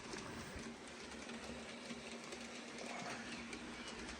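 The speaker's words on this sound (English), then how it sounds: "and trains continue to run." Model trains rumble steadily around a layout, a faint continuous mechanical hum with light clicking throughout, distant and low with no talking.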